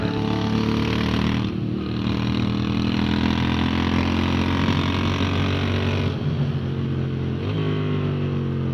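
Sports motorcycles, including a Kawasaki Ninja and a Moto Guzzi V7, running on the Anglesey International Circuit race track, a loud close engine drone with a sustained harmonic tone that shifts pitch as the bikes change gears.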